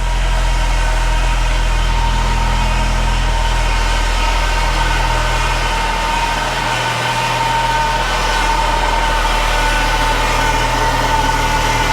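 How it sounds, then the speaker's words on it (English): A Saab 9-3 Turbo engine idles steadily and loudly up close, a constant mechanical drone carrying a faint high power steering whine, with low oil pressure noted on this car. "But listen to the engine. She sounds good."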